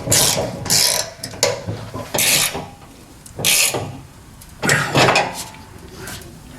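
Bolts are ratcheted down on an AMC AMX fuel tank: short bursts of wrench clicking come in separate runs with pauses between, close and fairly loud.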